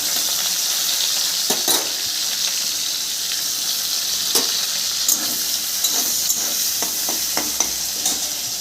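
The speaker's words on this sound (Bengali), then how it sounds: "তেলটা গরম হয়ে গেছে তেলের মধ্যে দিয়ে দেবো পেঁয়াজ" Onion hits hot oil in a pan and sizzles loudly and steadily, with occasional clinks and scrapes of stirring against the pan and no voices.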